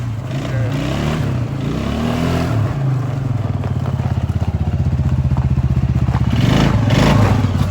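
A 2000 Suzuki Quad Master ATV on new tires runs close by, its engine chugging at a steady idle-to-low throttle before revving up louder near the end, alone without talk.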